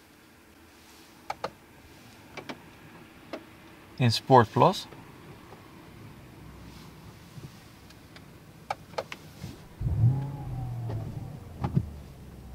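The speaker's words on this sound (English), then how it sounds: "So let's start the engine" A 2019 Mercedes-Benz S560 Coupe engine fires up with a short, low burst late in the clip, following scattered clicks inside the cabin and someone speaking.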